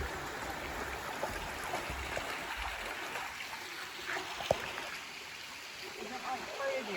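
Steady, broad rush of a creek flowing through old-growth Quinault rainforest, constant and fairly close, with a faint single tap partway through and no talking over it.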